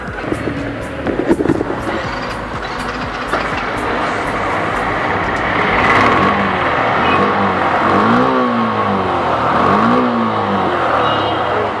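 A motorcycle engine runs on a highway ride after an engine oil change, a loud steady drone under wind that swells into rising and falling revs toward the end, with a few sharp clicks early on.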